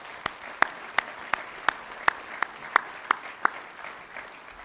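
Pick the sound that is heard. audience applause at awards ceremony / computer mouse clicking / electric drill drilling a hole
audience applause at awards ceremony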